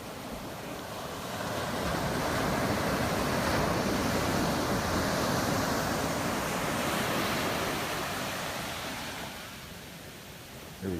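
Shorebreak waves at Kua Bay roll and crash in a continuous broadband surf roar that swells louder through the middle and eases toward the end, with no talking.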